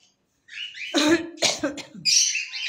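An African grey parrot imitates a cough in raspy bursts that repeat several times, close and fairly loud, with breathy squawky noises between them.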